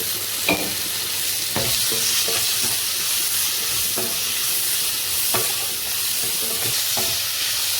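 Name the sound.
onions sautéing in pan with salt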